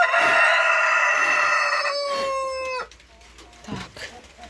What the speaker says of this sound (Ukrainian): Кури, кохінхінки там.